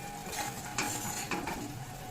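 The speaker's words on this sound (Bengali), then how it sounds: "নুন দিচ্ছি, লঙ্কা গুঁড়ো, হলুদ গুঁড়ো। এই মশলাটা একটু কষিয়ে নিচ্ছি।" A salt, chilli powder and turmeric spice paste with mustard and poppy seed is stirred in a hot pan, a steady soft sizzle broken by a few scraping clicks of a spoon against the pan.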